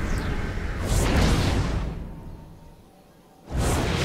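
In the StarCraft II video game, a Nexus Cannon fires with swelling whooshing blasts, a drawn-out energy rush that fades to quiet before another burst hits at the end.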